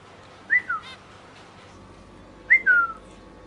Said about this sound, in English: These are my birds.